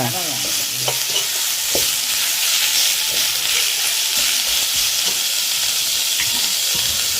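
Beetroot fries in a pan with a steady loud sizzle and hiss, while a spoon stirs it with occasional scraping clinks against the metal.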